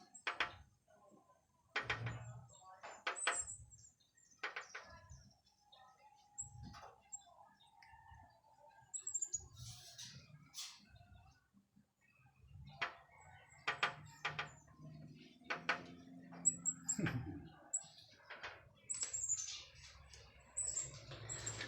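A small bird circles and pecks at a mirror, making scattered sharp taps among chirps. The sounds are faint and intermittent in a quiet setting, with other birds and fowl calling nearby.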